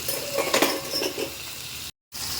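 Macaroni masala is stirred in a pan over a low flame, with a soft sizzle and the occasional clink of a spoon against metal, close and moderately loud, with a brief gap near the end.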